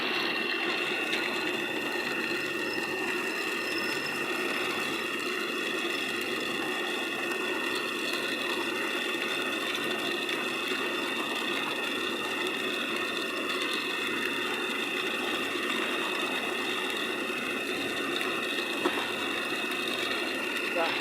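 A pellet granulator fitted with a 2.5 mm die runs continuously, a dense steady mechanical drone with whining tonal hum and a rattly grinding texture, unchanging and close throughout.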